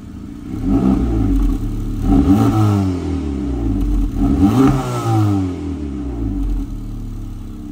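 An FL5 car engine revs with its exhaust valve closed, giving several loud, close throttle blips that rise and fall in pitch one after another.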